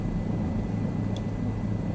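An Airbus helicopter flies in Microsoft Flight Simulator 2024 on a scenic flight to Pangong Tso, Ladakh, India, its steady low rotor and engine drone constant and moderately loud throughout.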